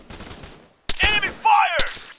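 Arma 3 video game gunfire: two sharp broadband cracks, one about a second in and another near the end, with loud shouted voices between them and a quieter stretch at the start.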